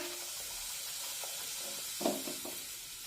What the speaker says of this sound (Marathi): तेल छानपैकी गरम झालं की त्यामध्ये या पुऱ्या आपण तळून घेऊया